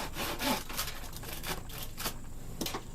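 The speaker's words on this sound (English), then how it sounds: "took my handsaw and cut the wood" Handsaw cutting through a 4-foot strip of plywood into supports, a steady back-and-forth rasping with repeated strokes, close and fairly loud, no talking.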